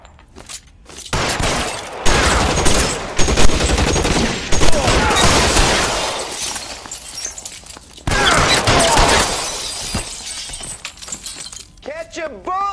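Gunfire bursts in L.A. Noire, loud volleys of shots with shattering glass and debris, coming in dense clusters with short lulls between, while someone shouts over the shooting.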